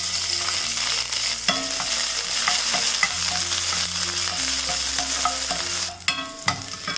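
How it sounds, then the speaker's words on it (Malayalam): Crushed garlic cloves sizzle and crackle steadily in hot oil in a pan for several seconds, with clinks of a spoon stirring. Low background music plays under the frying. "ഒരു ഉണ്ട വെളുത്തുള്ളി അല്ലി ഒന്ന് ചതച്ചെടുത്തിട്ടുണ്ട്, അതിട്ട് കൊടുക്കാം"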